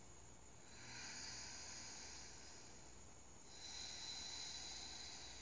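Slow audible ujjayi breathing during yoga practice, two long, soft, hissing breaths close to the microphone, one after the other, in an otherwise quiet room.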